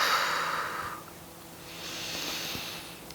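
During a seated yoga twist, a person takes a deep breath: a long, close airy exhale fading out, then a softer inhale, with no talking.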